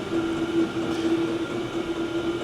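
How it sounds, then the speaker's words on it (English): A diesel heater drones steadily with a low rumble and a constant humming tone, unchanging and fairly close throughout. "You are going to have to excuse the noise of the diesel heater"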